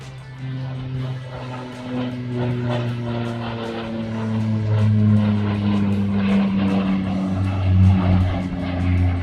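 A propeller aircraft drones steadily overhead, its engine tone rising slightly in loudness as it passes, with no talk.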